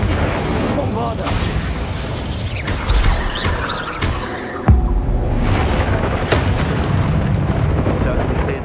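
Bombarda spell explosions in Hogwarts Legacy cast during combat in a castle room, loud booms and bursts among mechanical clatter and game effects, with a sharp blast midway and a voice speaking over the chaos.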